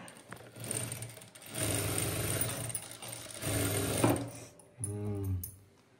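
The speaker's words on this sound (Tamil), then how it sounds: "தையல் ஆரம்பிச்சிட்டாரு சங்கீதா" A sewing machine stitching a churidar runs in several whirring bursts of a few seconds each, a mechanical hum with ticking, separated by short pauses, close by.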